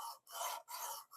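Knife blade drawn along the stone of a Work Sharp Precision Adjust sharpener, three quiet abrasive rasping strokes with brief gaps between them, close and faint.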